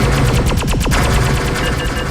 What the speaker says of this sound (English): The rapid-fire shotgun attack is great.